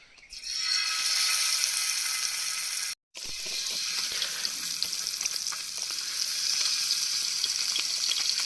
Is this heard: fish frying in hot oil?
yes